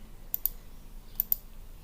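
Two pairs of quick, crisp computer mouse clicks, near and clear over a faint room hiss, each pair a fraction of a second apart.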